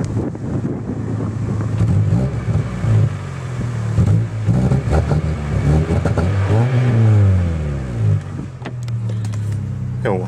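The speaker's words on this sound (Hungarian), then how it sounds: "Na, hallgassátok meg, milyen hangja van a kipunak." A car's exhaust note in a city setting rises and falls as the engine is revved, a loud, rumbling drone with pitch sweeps up and down, with people talking over it.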